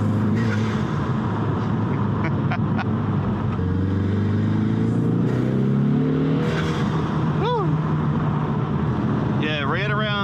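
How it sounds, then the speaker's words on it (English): A 2020 Ford Mustang EcoBoost HPP with a 2.3-litre engine and a Mishimoto intake accelerates, its engine note rising steadily in pitch from inside the car, with someone talking over the drone. "Oh man, that Mishimoto intake just, it sounds good, man."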